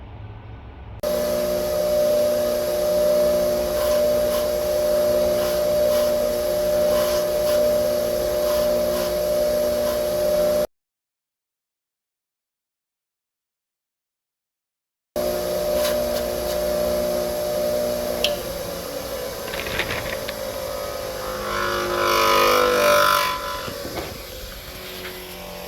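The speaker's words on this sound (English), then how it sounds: "start with a box of trees and a bench grinder with a wire wheel" Bench grinder with a wire wheel spinning steadily as model pine trees are worked on it, a continuous motor hum with harmonic drone, briefly cut off, then resuming with scratchy bursts of wire bristles against the material.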